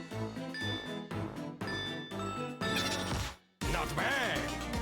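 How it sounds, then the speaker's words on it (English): Bright chiming bells ring out over busy, jingly music in the WarioWare: Move It! video game, with short tinkling strikes layered on a loud, steady soundtrack that briefly drops out before resuming. "Ring the bells."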